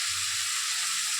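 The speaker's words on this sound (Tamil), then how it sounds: "ஒரு 5 நிமிஷம் இந்த தக்காளியை நல்லா வதங்கட்டும்." Tomatoes sautéing in hot oil in a pan for a sardine fish curry, a steady close sizzle and hiss without pause.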